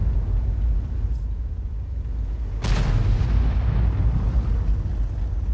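A heavy tank gun round lands with a loud booming blast in World of Tanks battle, a single sharp impact followed by rumbling low echo over constant engine drone.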